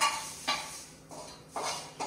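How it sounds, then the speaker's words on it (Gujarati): Garlic puffed rice (lasaniya mamra) is tempered in oil in a home kitchen pan. A utensil scrapes and clinks against the metal in four short, fairly close strokes with quiet sizzling between them. "અરે ડિમ્પલ વગારે છે લસણિયા મમરા"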